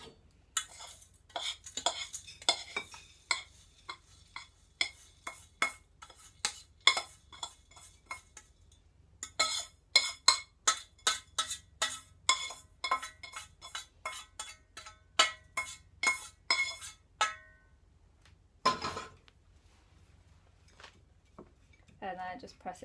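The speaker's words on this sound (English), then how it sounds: "then just press it down with your spoon" A metal spoon repeatedly taps and scrapes against a dish while pressing down a lemon flan base, a steady run of clinks and scrapes, fairly close and clear, thinning out toward the end.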